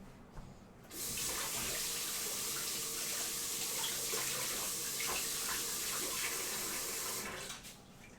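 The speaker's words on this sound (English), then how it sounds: "Give my hands a quick rinse and dry." A kitchen faucet gushes for about six seconds as hands are rinsed under it, a steady close splashing stream that starts and stops abruptly, with faint handling noise before and after.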